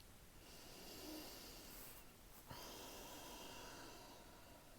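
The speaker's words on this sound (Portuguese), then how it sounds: "Estou respirando aqui para dar tempo da voz sair." Quiet, close human breathing sounds out: a soft drawn breath with a short sharp nasal exhale near the middle, faint against a hushed room.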